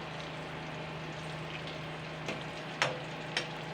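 Sliced pointed gourd (potol) frying in a pan with a steady soft sizzle, plus a few brief scraping clatters as the pieces are turned.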